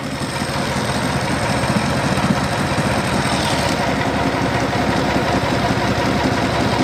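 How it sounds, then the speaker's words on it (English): A small water pump engine runs steadily at idle, a loud, close, continuous mid-pitched rumble with an even mechanical chatter and no talk over it. "There we go, now our pump is really going."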